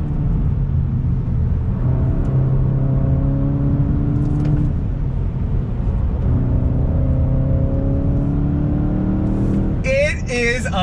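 A 2021 VW Golf GTI with a six-speed manual revs loudly toward redline, its engine tone climbing through the gears with a brief dip at a shift, then a voice cuts in near the end.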